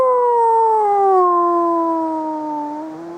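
A person imitates an animal howl: one long, loud, sustained wavering tone that slowly slides downward in pitch and trails off.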